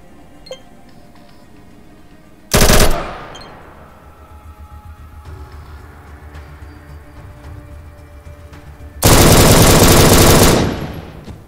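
Automatic firearm fire in the game ATOM RPG: two loud, dense bursts, one short and one longer lasting nearly two seconds, separated by quieter game ambience with faint clinks.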